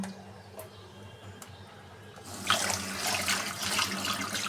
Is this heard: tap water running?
yes